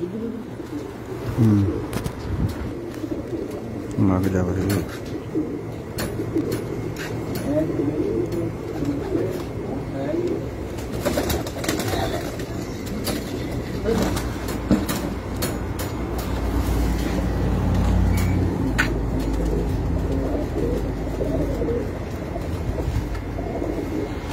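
Pigeons coo on a rooftop, their soft, repeated coos mixed with low background rumble. Someone talks over parts of it.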